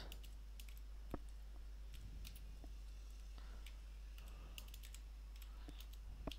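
Computer keyboard typing comes as scattered, irregular key clicks, fairly close but soft, against a steady low hum with no talking.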